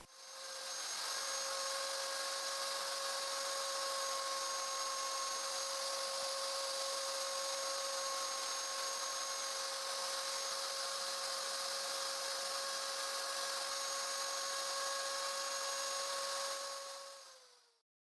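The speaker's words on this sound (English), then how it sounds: "I drill a shallow contour bore in the middle to accommodate the rivet the pin has in the other side of the strike plate" Power drill boring a shallow contour hole in a wooden strip for the rivet of a full mortise chest lock strike plate, a loud continuous high whine holding steady for about seventeen seconds before cutting off.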